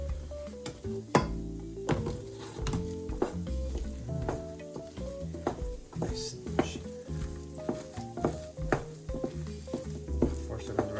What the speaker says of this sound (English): Before serving the rice, you want to go ahead and move it around.